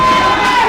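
Wrestling crowd at an ACPW show cheering loudly and steadily through the whole short moment, a dense roar with faint shouts and no break.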